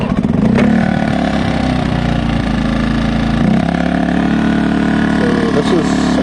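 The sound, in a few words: XTM 2000W inverter generator running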